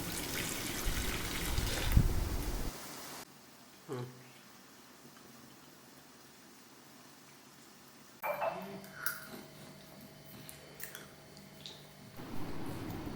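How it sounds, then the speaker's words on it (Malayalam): Hot water draining off clams soaked for a Kerala-style clam fry, heard as an intermittent trickling and splashing pour that comes in short bursts between quieter stretches of kitchen noise. "നമ്മൾ ചൂടുവെള്ളത്തിൽ ഇട്ട് വെച്ചിരുന്ന കക്കയില്ലേ നമുക്കത് ഊറ്റിയെടുക്കാം"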